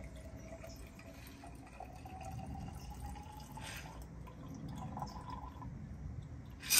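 A cocktail poured from a shaker through a strainer into a champagne flute, a steady quiet liquid trickle with faint drips, heard up close without speech.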